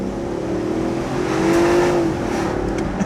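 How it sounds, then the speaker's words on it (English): A Range Rover V8 engine revs in a sustained rising and falling roar, heard close and steady with no talking. "That V8 does sound nice."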